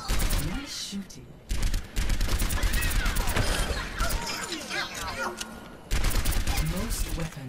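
Gunfire from shooting at training bots in the Overwatch video game, with repeated bursts of rapid shots and impact crashes, loud and dense throughout, brief pauses between volleys, over game effects.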